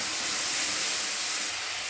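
Spice paste hits a hot kadai with a loud, broad sizzle that hisses steadily for a moment, then eases a little, close and with no voices.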